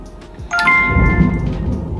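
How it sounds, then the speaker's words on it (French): Thunder from a thunderstorm rolls in as a deep, loud rumble, with a rain-like hiss and a brief tonal ring near the start. "il y a eu l'orage"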